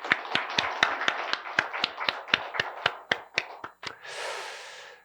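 A church congregation claps together during a Sunday morning service marking the church's eighth anniversary, a steady run of sharp, even hand claps lasting several seconds before trailing off into a brief rush of noise.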